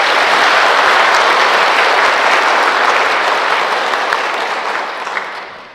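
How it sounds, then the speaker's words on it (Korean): Warm, sustained applause from a church seminar audience at a Catholic parish hall as a Franciscan priest is welcomed, a dense crowd of clapping that stays loud before slowly tapering off. "사랑의 박수로 모시겠습니다"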